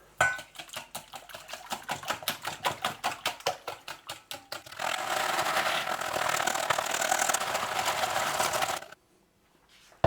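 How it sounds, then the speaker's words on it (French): Pepper mill grinding peppercorns for courgette fritters: a run of rhythmic ratcheting clicks, then a steadier continuous grinding rasp that stops abruptly, close and alone. "Du poivre du moulin."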